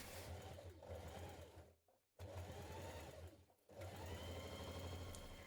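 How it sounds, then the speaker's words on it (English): A sewing machine stitches down each side of an internal bag pocket in three steady, humming runs, with two short pauses between them, close and fairly quiet. "while we sew down each side of this internal pocket"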